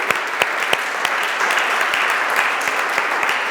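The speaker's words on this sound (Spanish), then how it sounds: "Dale un aplauso al Señor" A church congregation applauds the Lord during a sermon on prayer, with steady, dense clapping that carries evenly throughout, a few sharper claps standing out above the crowd.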